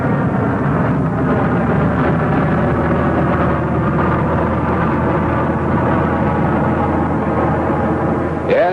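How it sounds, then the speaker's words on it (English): A loud, continuous jet engine roar as the engine restarts in flight fills the whole stretch, rumbling deep and steady, with a brief rising whine at the very end. "A jet engine restart in the air."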